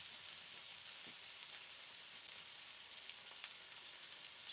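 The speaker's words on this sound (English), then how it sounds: "Oh, my onions are burning." Onions fry in a pan, giving a faint, steady hiss with light crackling pops, heard alone without any talking.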